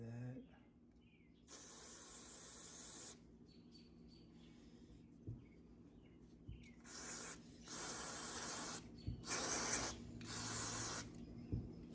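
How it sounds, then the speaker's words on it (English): Several loud hissing sprays from a can of cleaner onto a Husqvarna weed eater that will not prime or start, in bursts of one to two seconds, close by, separated by short pauses with small handling sounds. "Just give it a good old sprayer on the outside."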